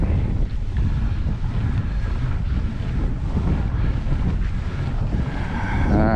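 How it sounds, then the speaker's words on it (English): Strong wind gusts across a small fishing boat on a lake, with constant loud buffeting roar and microphone wind noise blanketing everything, plus faint water movement underneath and no voices. "the wind's blowing so hard, it's blowing me sideways"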